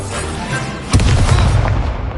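An Incendio fire spell is cast in the Hogwarts Legacy video game, with a loud, sudden boom partway through that gives way to a sustained fiery roar over continuous game background sound.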